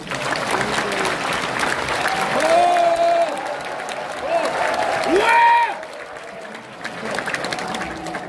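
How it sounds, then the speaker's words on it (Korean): An audience at a political church-hall gathering applauds a party leader, a dense, fairly loud burst of clapping lasting several seconds, with voices and tonal calls over it before it fades out. "우리 고영일 대표 박수 한번 쳐주세요"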